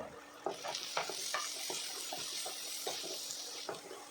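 Onions frying in a pan with turmeric powder and garam masala, a soft sizzle broken by repeated scraping stirs of a spoon against the pan, close and fairly quiet.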